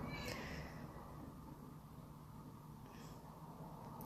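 A house cat meows twice, briefly and faintly, once near the start and again near the end, over a steady low background hum in a quiet room.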